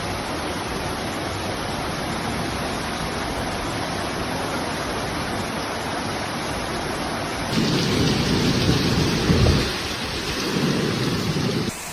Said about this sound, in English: Severe thunderstorms, and heavy rain that hit France, Switzerland, Italy and Germany on Saturday